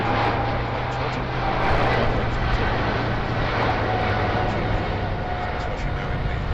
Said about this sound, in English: I like watching airplanes taking off